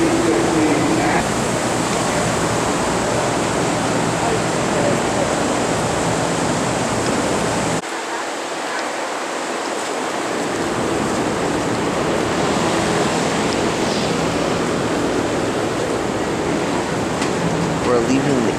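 Waves washing steadily in the artificial ocean of Biosphere 2, a continuous broadband rush that dips briefly partway through and then returns, filling the space.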